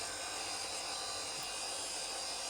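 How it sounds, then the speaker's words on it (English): Small wooden pins from a wooden cryptex-style puzzle vault being cleaned up against a spinning disc sander, giving a steady, unbroken broadband whir and hiss that holds level throughout, with no talking. "The easiest way to clean them up is just to offer them up to the disc on the disc sander"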